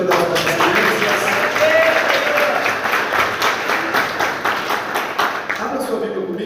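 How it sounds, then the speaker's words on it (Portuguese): A church congregation claps together at a Sunday family service, a steady broadband patter lasting several seconds while a voice talks and sings over it. "Aplaude Jesus pela vida das nossas crianças."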